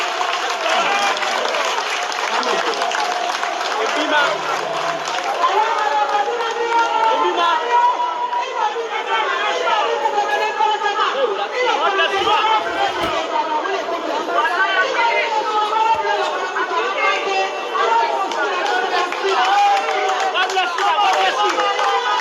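A crowd at a presidential address in Kambia District applauds and chatters steadily for the First Lady's arrival, a dense, continuous wash of clapping and voices with no pause throughout.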